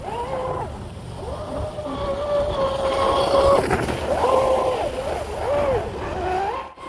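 A Proboat Blackjack 42 RC boat fitted with an upgraded strut and flex cable runs at full throttle through a corner on open water, its electric motor whine rising and falling steadily while someone talks over it.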